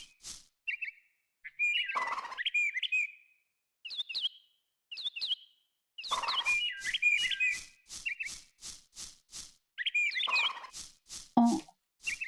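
Birds in a cozy video game chirp in bright, repeated tweets and trills, with bursts of rapid clicking calls, clear and close against silent gaps.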